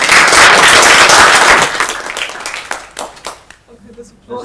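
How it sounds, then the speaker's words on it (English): Audience applauding at the close of a conference session on adaptive clinical trials, a brief loud burst of clapping that fades after about a second and a half, with a voice speaking as it dies away. "this applause for all the speakers in this wonderful session"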